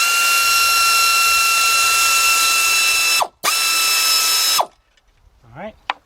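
A ratchet spins out an alternator bolt on a 2007 Jeep Grand Cherokee Laredo with the 3.7 engine, giving a loud, steady clicking whir that stops briefly and resumes, then ends. A short voice follows at the close.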